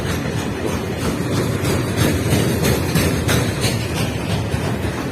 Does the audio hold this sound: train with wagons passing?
yes